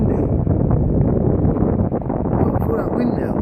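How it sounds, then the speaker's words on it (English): Strong gusting wind ahead of a roll-cloud storm front over Dover, Kent, England roars and buffets the microphone. The low rumble is loud and close and continues without a break for several seconds. "It's getting seriously windy."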